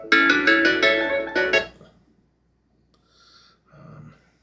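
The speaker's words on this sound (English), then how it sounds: "Let's have a look what the text message was" In Farming Simulator 25, a text message notification plays a short bright chiming jingle of several quick tones, followed by near silence and a couple of faint soft sounds.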